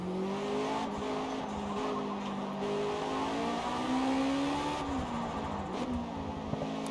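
Time attack car accelerating on the Fujimi Kaido course in a racing game, a loud sustained engine whine climbing in pitch through the gears, with brief dips at shifts and some tire noise.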